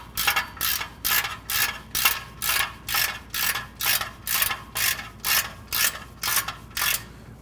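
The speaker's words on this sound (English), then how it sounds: "Once we get all of our nuts and bolts started, we're going to tighten the rear up first." A hand ratchet clicks in a steady run of about fourteen sharp, evenly spaced strokes, close and clear, tightening the nuts and bolts on a catalytic converter of a 2000 Honda Civic.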